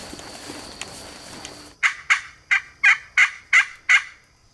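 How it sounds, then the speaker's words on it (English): A wild Osceola turkey gobbles in a rapid string of about seven loud, evenly spaced calls from fairly close. Quiet outdoor background comes first, and the gobbles then carry clearly on their own. "were easing down a 2-track road when Jordan thought he heard a gobble and stopped to call."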